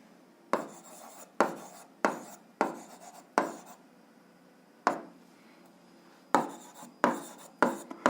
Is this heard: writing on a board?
yes